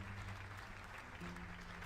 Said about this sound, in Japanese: あ、拍手が聞こえますね。